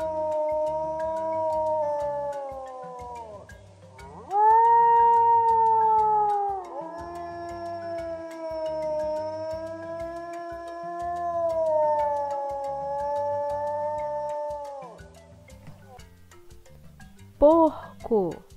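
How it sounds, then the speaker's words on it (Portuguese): A wolf gives long, loud, wavering howls, several drawn-out rising and falling calls over a soft rhythmic music bed, ending with a brief sharp yelp. "Lobo."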